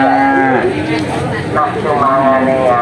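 Cows moo loudly and repeatedly at a busy cattle market in Bekonang, Java, with long drawn-out calls overlapping a constant crowd murmur and nearby chatter.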